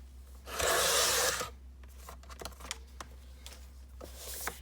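A paper trimmer slices through a sheet of decorative paper for a children's bookmark in one loud, rasping cut, followed by faint handling and rustling sounds.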